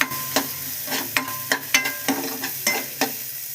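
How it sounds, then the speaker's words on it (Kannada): Onions fry in a pan while a utensil stirs them. Soft sizzling sits under about ten crisp scraping strokes in a quick, uneven rhythm, close up, with no talking. "ಈ ಥರ ಚೆನ್ನಾಗಿ ಫ್ರೈ ಮಾಡಬೇಕು."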